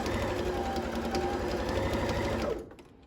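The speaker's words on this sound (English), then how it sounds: "we're gonna stitch on this inner seam" A sewing machine stitches the inner seam of a pant leg, a steady close mechanical whir with rapid needle chatter running continuously, then cutting off near the end.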